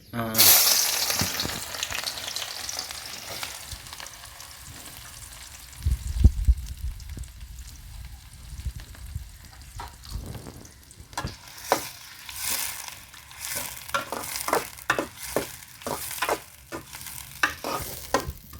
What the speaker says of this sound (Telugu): నూనె అయితే కాగింది ఇప్పుడైతే పచ్చిమిరపకాయలు ఉల్లిగడ్డలు వేసుకుందాం నూనెలోకి